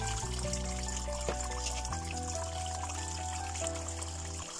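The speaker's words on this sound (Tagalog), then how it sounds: "Maglagay po tayo ng tubig sa isang malaking kawali." Water pours into a large pan for making onion juice, a steady close trickle whose pitch shifts as the pan fills, with faint musical tones in the background and no talking.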